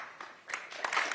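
Audience applauding at a bipartisan political gathering of Democratic and Republican lawmakers, a short, moderately faint burst of clapping that thickens and grows louder after a quieter start.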